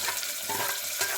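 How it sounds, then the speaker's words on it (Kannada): Tomato, onion and coriander fry in a hot tempering for a tomato biryani, giving a brief soft sizzle with light stirring, close and fairly quiet. "ಎಲ್ಲನೂ ಫ್ರೈ ಮಾಡ್ಕೊತೀನಿ"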